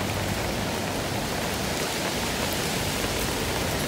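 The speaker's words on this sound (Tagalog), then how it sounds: "At saka tuloy-tuloy ang ulan." Heavy black-rainstorm downpour in Hong Kong, a steady, dense, loud hiss of rain pouring without pause, with no voices heard.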